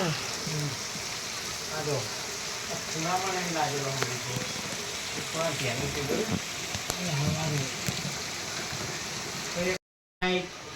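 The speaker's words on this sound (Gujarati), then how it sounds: "વરસાદ બહુ ચાલુ છે" Heavy rain pouring at night, a steady loud wash of drops hitting surfaces that continues throughout, with a person speaking over it and a brief dropout near the end.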